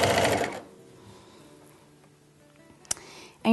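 A sewing machine stitches fabric for a baby burp cloth in a short, loud, fast burst at the start. Quiet handling noises follow, then a sharp click and the start of another burst.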